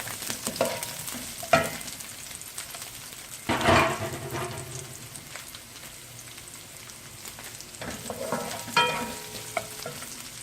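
Ginger, garlic and onions frying in a pan for a Mongolian chicken dish, a soft steady sizzle with stirring and occasional louder scrapes of the spatula.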